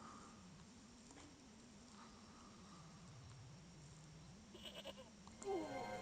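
A goat in the game Broken Sword: Shadow of the Templars bleats in a long, wavering, low cry that carries faintly and steadily over several seconds, ending in a few sharper sounds.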